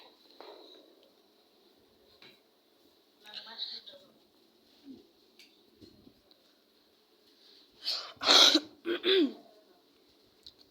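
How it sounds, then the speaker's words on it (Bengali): A man coughs and clears his throat a few times, once near the start, a few scattered times in the middle, and in a loud cluster of harsh coughs toward the end, close to the microphone in an indoor room. "আমার একটু কাশি হয়েছে, কিছু মনে করবেন না, এই আওয়াজটা একটু ইগনোর করেন"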